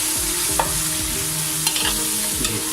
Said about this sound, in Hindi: 1 मिनट के लिए अच्छी तरह मिक्स कर लेते हैं।